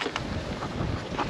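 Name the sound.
wind blowing outdoors by the sea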